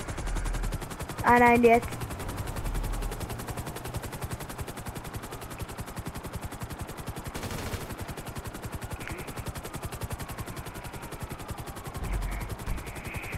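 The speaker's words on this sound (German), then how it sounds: "Ich schieße gerade herum" Video-game gunfire from a player shooting around, rapid automatic bursts rattling continuously at moderate level, with a brief louder burst early on and a short spoken exclamation.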